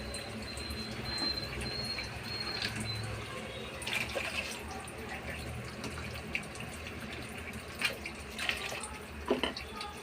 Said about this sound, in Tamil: இப்போ வந்து கொஞ்சம் தேவையான அளவுக்கு தண்ணி ஊற்றிக்கலாம்.